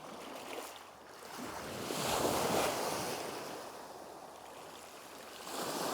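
Waves wash onto a Great Lakes shore as rocks are searched, a continuous surging roar that swells and recedes with wind noise on the microphone, with no speech.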